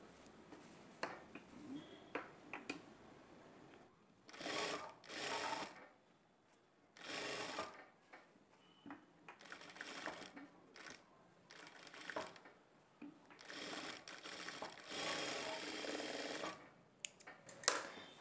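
A sewing machine stitching the seam of a prince-cut blouse with boat neck and piping, running in several short bursts separated by quiet pauses and soft handling noises.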